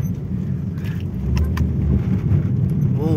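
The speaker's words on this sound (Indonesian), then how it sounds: "Mesinnya masih sangat responsif ya" A Mazda Familia Lantis 323 engine, a loud, close low rumble that rises partway through as it revs, with light metallic jingling on top.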